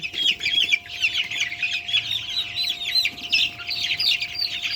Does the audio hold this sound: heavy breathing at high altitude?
no